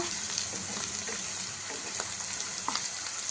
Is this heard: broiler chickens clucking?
no